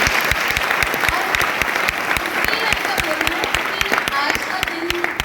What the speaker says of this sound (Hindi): तो सबसे पहले तो खुद के लिए एक जोरदार तालियां होनी चाहिए